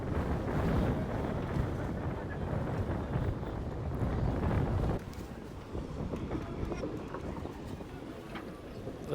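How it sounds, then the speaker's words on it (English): Wind blowing over the sea at a yole sailing race off Martinique, a strong, steady roar buffeting the microphone that eases slightly partway through. "Oh wow, there's still breeze out here."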